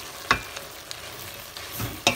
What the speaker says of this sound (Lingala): Ngo wana mbinzo na biso ezokalingama na mafuta ya l'huile